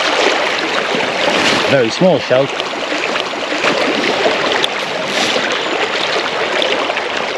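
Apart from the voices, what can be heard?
flowing river water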